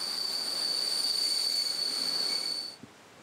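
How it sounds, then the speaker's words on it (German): A train hauled by a modernised PKP SU42 diesel locomotive rolls past with a steady high-pitched wheel squeal and rushing noise, then cuts off abruptly near the end, leaving quiet. "Auf der nächsten Etappe wird eine modernisierte SU-42-Diesellok der polnischen Eisenbahngesellschaft PKP unsere Zugmaschine"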